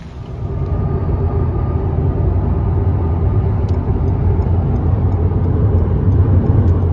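An Alpine cruises smoothly along a highway, giving a loud, constant low road-and-engine rumble with steady tyre noise and no changes in pace.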